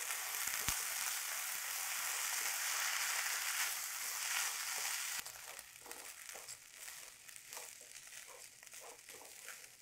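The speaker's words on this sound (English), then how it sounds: "Add the rice, then stir for a couple of minutes" Rice stirred in a pot with golden-edged aromatics, a steady hot sizzle throughout that thins after a few seconds into lighter crackling with faint scraping stirs, no voices.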